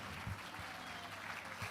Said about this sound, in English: This is a clap that you are clapping.